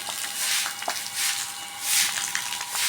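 A steady hiss of water sprayed across a courtyard floor at a home in Konkan while the yard is washed, broad and continuous with gentle surges and faint splashes, no voices.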